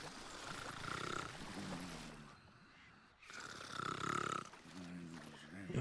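A video game character snores in long, rasping, rumbling breaths, two loud drawn-out snores separated by a short pause, filling the foreground.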